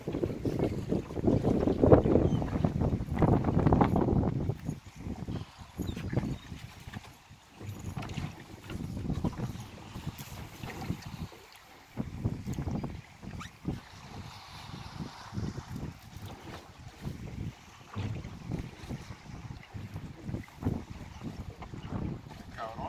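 A motorboat ride on the water while fishing, with a steady engine and hull rumble buffeted by wind noise on the microphone and people talking intermittently over it.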